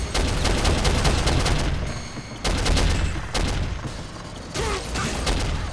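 Glock pistols fire in Soldier of Fortune in rapid, dense bursts of loud shots. The bursts are broken by short pauses and mechanical clicks, with no voices.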